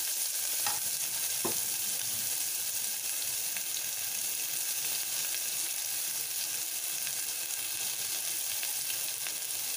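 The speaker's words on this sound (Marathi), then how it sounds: "त्याच्यानंतर आपण आता तो बारीक चिरलेला कांदा टाकून घेऊया" Finely chopped onion frying in ghee after garlic, cumin, mustard seeds and curry leaves, for khichdi, gives a steady close sizzle with a couple of light stirring clicks early on.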